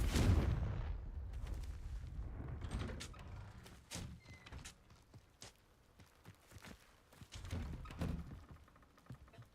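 A Confringo fire spell goes off in the video game Hogwarts Legacy with a heavy opening blast, followed by scattered thuds, knocks and clattering impacts of varying loudness.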